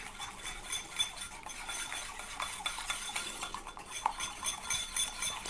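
A utensil stirs and scrapes a hair care paste in a bowl, a steady close clinking and swishing with small scraping knocks throughout and no talk.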